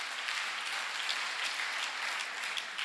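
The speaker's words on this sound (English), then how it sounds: "we must clap hands for ourselves that we are here" Council members at an ANC Mangaung regional general council clap their hands in steady, dense applause that fills the room without pause for the full stretch, with no voices standing out.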